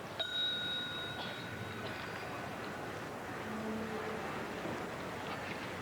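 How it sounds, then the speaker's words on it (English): A single bright warning bell strike at the 1984 McDonald's International Gymnastics Classic rings out and decays slowly, followed by a faint second tone, over a steady background murmur of a large indoor crowd. "And the bell was a warning bell"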